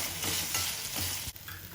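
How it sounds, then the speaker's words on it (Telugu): Green chillies sizzle and crackle steadily in hot oil in a home kitchen, with a stirring scrape partway through and no talk. "జస్ట్ అట్లా అనుకొని మళ్ళీ దీన్ని కాసేపు ఫ్రై చేయాలన్నమాట మంచిగా"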